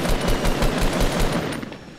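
Rapid bursts of assault rifle fire in the video game Fortnite, a steady rhythmic stream of loud, evenly spaced shots across the whole stretch, tapering slightly near the end with no talk over it.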